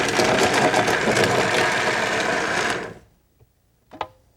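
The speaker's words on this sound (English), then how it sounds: "Turn the machine on." A Vita-Mix blender runs loud and steady, chopping cheese, then cuts off abruptly, leaving near silence with a couple of small clicks and a brief knock afterward.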